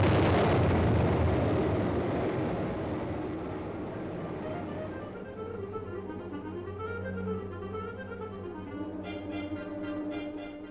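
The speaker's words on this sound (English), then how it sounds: "The Honest John rocket is sent winging its way toward the heart of the enemy's forces." An Honest John military rocket launches with a massive roaring blast that slowly decays into a long rumbling tail, then fades into a quieter background of distant sounds.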